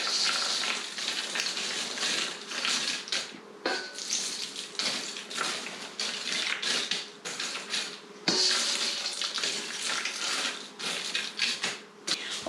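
Dry Chex mix cereal pieces being poured out onto a baking sheet, a dense rattling clatter of many small pieces hitting metal in uneven bursts, close and fairly loud, no talk.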